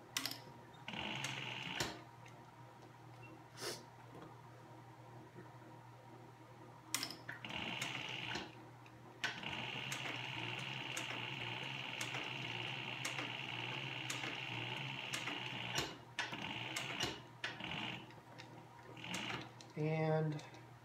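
Leather wallet being stitched on a sewing machine, short bursts of needle whirring separated by pauses as the presser foot is raised and the work is turned, close and moderately loud with no talking.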